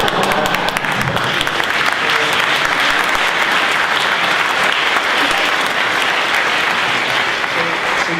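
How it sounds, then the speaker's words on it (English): Audience at a staff briefing award presentation applauding, dense sustained clapping throughout, loud and close, with no break. "for our egg incident for Josh Catchpole, can I have a round of applause please for the egg incident?"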